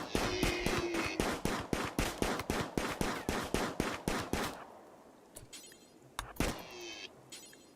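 Rapid gunfire from the RimWorld video game, a long run of evenly spaced sharp shots for about four seconds, followed by a quieter stretch with a few scattered single shots and faint high electronic tones.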